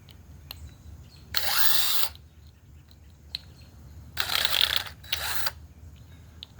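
A power drill driving a screw in two short whirring bursts, the second split into two pulses, close and fairly loud against a quiet room with faint ticks between runs and no talk.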